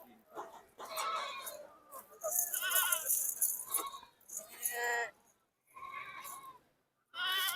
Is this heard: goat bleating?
yes